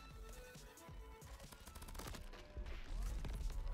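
Minigun in the video game Crab Champions firing in a rapid continuous stream of shots, dense and steady, growing louder and heavier toward the end with no talk over it.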